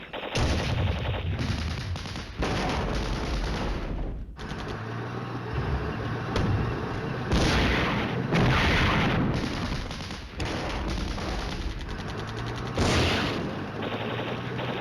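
Artillery and gunfire in Flashpoint Campaigns: Red Storm rumble on without pause, with dense booms and rattling volleys recurring every few seconds at steady loudness.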